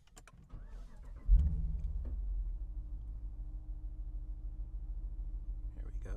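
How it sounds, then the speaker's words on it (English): A car engine cranks and catches with a sharp start, then settles into a low, steady idle that continues to the end, preceded by faint clicks in a quiet cabin. "I'm going to start the vehicle and see if it powers up."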